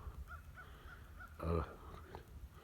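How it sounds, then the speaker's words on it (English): Crows caw several times from a distance over cattle pastures on a thawing late-winter day, short calls spaced irregularly, with one louder, closer caw in the middle over a quiet outdoor background. "I hear some crows."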